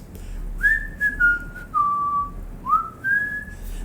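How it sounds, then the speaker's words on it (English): A person whistles a short wavering tune alone, a handful of clear, sliding notes rising and falling with brief gaps between phrases over a quiet background. "Mr. Dawkins whistled for a couple of minutes."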